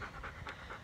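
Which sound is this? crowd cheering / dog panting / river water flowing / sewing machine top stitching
dog panting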